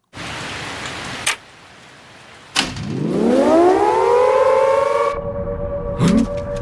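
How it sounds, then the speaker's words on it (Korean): A siren in the horror video game Siren NT starts up after two sharp thuds, rising in pitch into a loud, sustained wail that cuts off abruptly, with another short knock near the end and rain-like hiss in the background. "사이렌 소리를 듣고 미칩니다"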